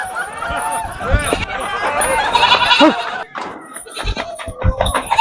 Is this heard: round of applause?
no